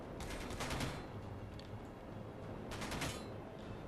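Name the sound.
hostile turret shooting, from the video game Space Engineers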